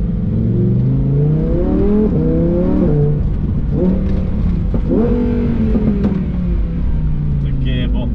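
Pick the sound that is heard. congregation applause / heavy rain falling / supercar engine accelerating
supercar engine accelerating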